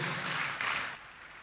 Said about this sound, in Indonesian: Tepuk tangan dulu yang meriah buat Tuhan Yesus.